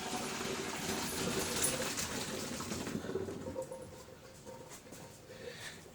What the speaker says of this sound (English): I'm just going to drain these noodles off.